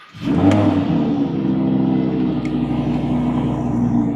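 A Huracán LP 580-2 rear-wheel-drive sports car engine idles steadily with a low, continuous rumble and a brief rev at the start, close by and fairly loud.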